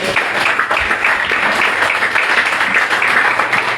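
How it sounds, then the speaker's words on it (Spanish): A church congregation applauds during a Spanish-language service, loud, sustained, dense clapping from many people that fills the room without a break. "Dar un aplauso al Señor."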